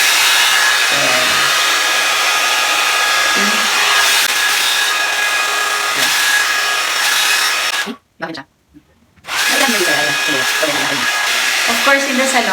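A one-step hot air styler brush blows with a steady, loud whoosh that cuts out for about a second and then starts again.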